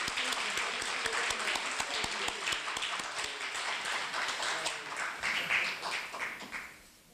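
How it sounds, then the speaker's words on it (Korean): An auditorium audience applauds at a university hall remodeling completion ceremony, sustained even clapping from many hands that fades out toward the end. "큰 박수 부탁드리겠습니다."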